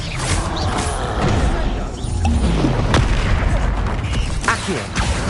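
Spell combat in Hogwarts Legacy as Expelliarmus is cast, giving a loud whooshing burst with a sharp crack near the middle, set over a dense, continuous mix of magical impacts and rumbling game effects.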